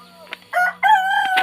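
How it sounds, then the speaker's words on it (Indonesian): A rooster in a Baduy village crows a single drawn-out, rising call, close and clear, after a few faint background sounds. "ada ayam berkokok juga"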